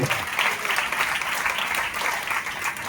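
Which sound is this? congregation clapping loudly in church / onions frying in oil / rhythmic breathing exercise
congregation clapping loudly in church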